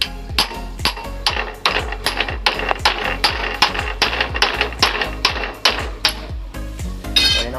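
Sharp metallic taps knock a spring-loaded motorcycle part into place, roughly two dozen close, loud hammer-like strikes in an uneven, quickening rhythm with no talking.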